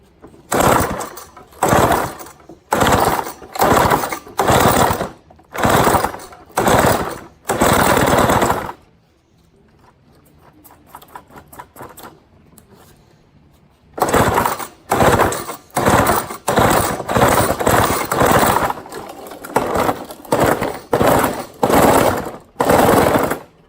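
A small Toro Sno Pup snowblower engine barks loudly in rapid, choppy bursts, cuts to a brief quiet stumble, then surges back into the same stuttering, uneven running, close up and alone.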